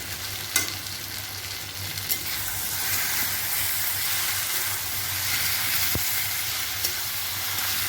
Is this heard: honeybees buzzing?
no